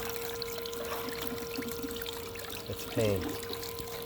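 Water runs steadily from a valve at a creek during gold prospecting, a continuous trickling pour under a person's brief talk, with a louder gush near the end.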